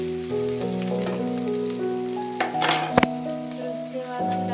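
Chopped onion sizzles and fries in a pan for an aloo palak sabzi, with a steady crackle, a clatter of a spoon stirring against the pan and a brief burst of sharper sizzling midway.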